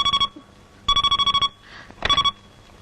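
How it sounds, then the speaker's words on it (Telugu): An indoor telephone rings loud and close in a Telugu film scene, giving three distinct bursts of rapid bell trills separated by short pauses. "ఈ ఫోన్ నాకు డాడీ."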